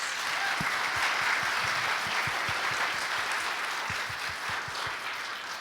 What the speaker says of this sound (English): let's go ahead and give our readers a round of applause